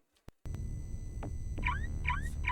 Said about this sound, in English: That's the sound of my alarm going off